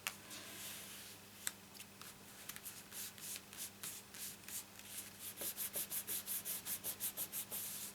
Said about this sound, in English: Now by giving it a rub like this, it's going to leave marks because you've got a lumpy bit underneath